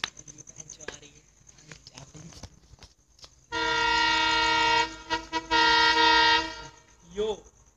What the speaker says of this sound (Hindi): ये देखिए ट्रेन आ चुकी है, बहुत नजदीक है मेरे।